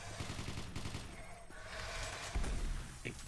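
Rapid bursts of gunfire in Doom 3, loud and close, with repeated shots rattling over a dense ambient hum and a heavier thump near the end.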